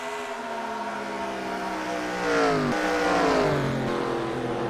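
Simulated NASCAR stock cars race in a video game at Las Vegas, engines droning steadily with rising and falling pitch sweeps as cars pass, swelling slightly midway, no talk.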